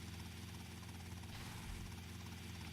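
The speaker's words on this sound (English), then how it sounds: "So we'll take the helicopter" A helicopter in Grand Theft Auto: Vice City gives a steady, even rotor and engine drone that holds at constant level the whole time, with no voices.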